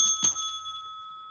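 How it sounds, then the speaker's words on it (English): A moderator strikes a timer bell at a city council candidate forum, one clear metallic ding that rings on and slowly fades in a quiet room. "I will act as the timer and indicate at the end of 1 minute with the delightful sound of this bell"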